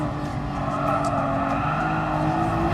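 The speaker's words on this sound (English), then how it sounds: "You can hear the sound of the engine and know which gear you're in" Race car engine in Gran Turismo Sport gameplay, a continuous high-revving drone with shifting pitch from gear changes, held steady and fairly loud throughout with no break.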